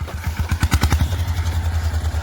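A motorcycle engine runs close by with a fast, rhythmic thumping beat that settles into a steady low chug.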